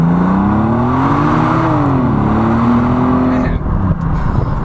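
Bentley Continental GT engine blipping and revving on a downshift to second while driving, a loud, steady rising drone that dips and settles, then thins out near the end.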